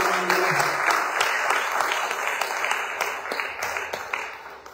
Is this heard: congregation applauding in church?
yes